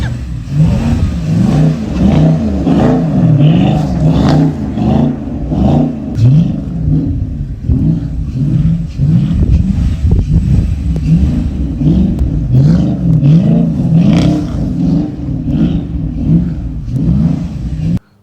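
A 2014 Dodge Charger R/T AWD with a V6 doing donuts, its engine revving hard in repeated rising and falling surges, loud and close, with tire noise and no talking over it.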